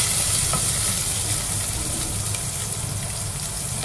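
Onion frying in a pan for monggo with pork ribs, a steady loud sizzle with faint stirring scrapes throughout, no voices.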